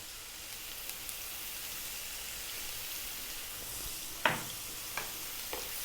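Onion and garlic with salt and black pepper frying in a pan over lively, above-medium heat, a soft, steady sizzle with a few faint clicks of stirring.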